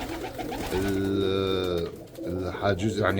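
Pigeons, male and female birds kept together in a loft, coo with rolling, throaty calls, heard close and loud while someone speaks over them.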